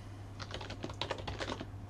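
Fingers tap quickly on a computer keyboard in irregular bursts of close, crisp keystrokes over a low steady hum, with no speech.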